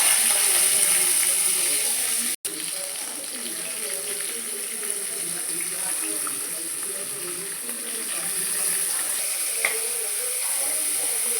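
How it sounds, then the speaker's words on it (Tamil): Onions fry with spices in oil for prawn biryani, a steady soft hiss and sizzle lasting throughout at moderate distance, with one brief dropout and occasional faint clicks. "இது லைட்டாக கோல்டன் ப்ரௌன் வர வரைக்கும் ஃப்ரை பண்ணிக்கோங்க"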